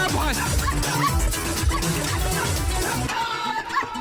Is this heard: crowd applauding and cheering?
no